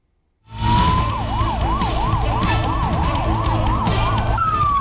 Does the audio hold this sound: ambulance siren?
yes